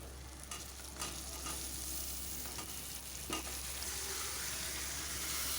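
Marinated chicken added to softened tomato sizzles and fries steadily in a pan, a continuous close hiss with occasional stirring scrapes and clicks.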